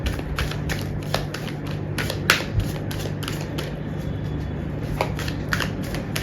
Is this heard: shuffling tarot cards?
yes